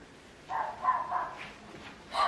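A dog barks in a short series of several yaps outdoors in a garden, moderately distant and fairly faint.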